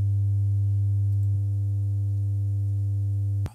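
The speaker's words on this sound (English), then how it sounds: "signal generator on 100 hertz" A steady low 100 hertz tone from a signal generator holds one pitch without wavering, then cuts off with a click.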